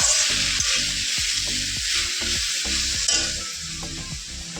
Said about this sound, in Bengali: নামিয়ে দেবো এবার কলমির শাকটা ভাজা।